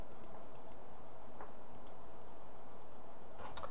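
A handful of sharp computer mouse clicks, spaced irregularly and close, sound over a quiet room hum.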